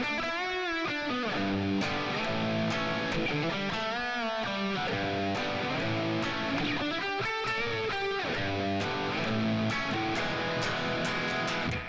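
Distorted electric guitar fills from a song, bending and sliding lines over ringing chords, loud and sustained with no voices.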